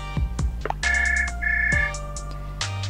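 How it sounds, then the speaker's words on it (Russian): A phone in a house rings inside a video game, playing a bright electronic ringtone of sustained tones with short pauses between them, clear and close with no talking. "Где-то в доме звонит телефон."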